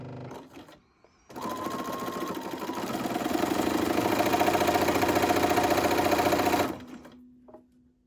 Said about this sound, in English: to sew straight stitch all the way down